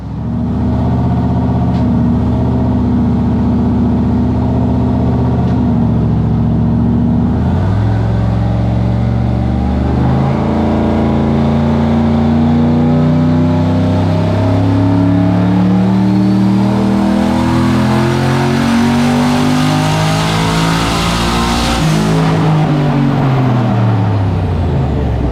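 Turbocharged aluminum 5.3 LS V8 in an OBS Z71 truck pulling on a dyno, a loud sustained engine roar climbing steadily in pitch through a long pull before backing off near the end.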